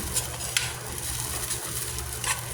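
Shrimp sizzling in a pan of sautéed mung beans, a continuous close frying hiss broken by several sharp clinks and scrapes of a utensil against the pan, with no voices.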